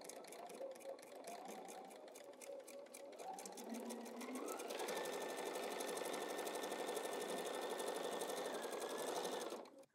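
Sewing machine stitching a quarter inch quilting seam hums steadily up close, rapid needle strokes rising in speed partway through before stopping abruptly.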